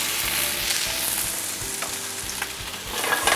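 Vegetables sauté in a hot pan with a steady, close sizzle and crackle, along with occasional scrapes of stirring, and no voices.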